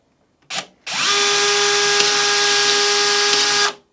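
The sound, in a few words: DeWalt XR brushless PEX expander DCE410 running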